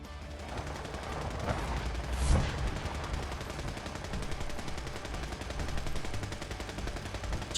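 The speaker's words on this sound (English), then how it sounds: "What the hell is shooting in here?" Steady gunfire rattling through the Fallout 4 game world, dense automatic shots at a constant moderate level, with one sharper louder burst early on.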